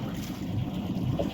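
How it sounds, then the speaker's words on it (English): Inboard engine of a Bawley yacht idling steadily while being run up, a constant low rumble mixed with wind and nearby water, fairly loud and unbroken throughout. "We're just running the engine up"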